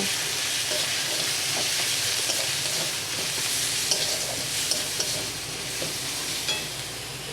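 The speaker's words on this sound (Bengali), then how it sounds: "গোলমরিচ গুঁড়ো অল্প করে দিয়ে ভালোভাবে কষিয়ে নেব" Spices and black pepper powder fry in a pan, a loud, dense, continuous sizzle with occasional soft stirring clicks, no talking.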